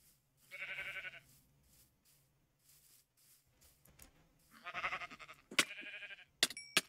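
Sheep bleating in the modded Minecraft pack GT New Horizons, several wavering bleats in two groups with quiet between, followed by sharp clicky game sound effects near the end.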